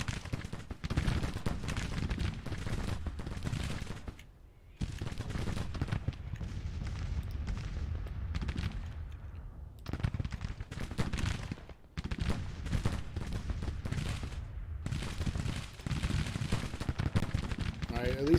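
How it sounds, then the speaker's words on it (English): Gunfire and artillery roar through a Grand Tactician battle, a dense continuous barrage with brief lulls, booming and crackling close at hand while a voice talks intermittently over it. "At least Rosser's guns are firing."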